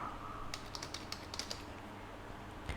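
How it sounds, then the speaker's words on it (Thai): Keys tapped on a computer keyboard while a password is entered and confirmed in Word 2024, a quick run of light clicks in two short bursts with a final tap, close and fairly faint. "ให้ป้อนรหัสผ่าน 2 ครั้งนะครับ กำหนดรหัสผ่านที่ต้องการนะครับ แล้วก็ยืนยันรหัสผ่านอีกครั้งหนึ่งนะครับ"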